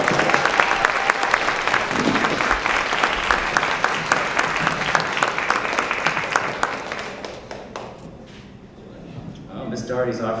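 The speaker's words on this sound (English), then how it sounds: "Let's give them another round of applause" Parents in an audience applaud a kindergarten winter concert, a loud dense round of clapping that thins and fades out toward the end as a voice starts speaking.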